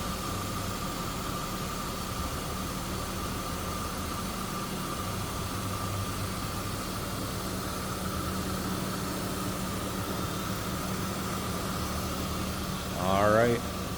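A 1999 BMW 328i convertible engine idles smoothly in a steady, even hum that runs unchanged throughout, with a brief higher sweep near the end; a voice speaks over it.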